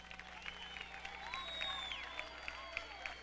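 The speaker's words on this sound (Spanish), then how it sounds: "Un aplauso para el señor Eduardo Amaya, por favor." A concert audience applauds at a 2002 show in Panama, steady clapping with scattered louder claps and a faint crowd murmur, while someone speaks over the sound.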